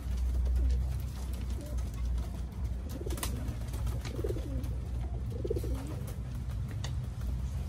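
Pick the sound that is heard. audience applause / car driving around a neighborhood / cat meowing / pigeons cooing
pigeons cooing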